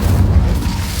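A fire spell is cast in a Harry Potter video game, giving a loud, sustained low whooshing rumble like a burst of flame that fills the whole moment with no pause.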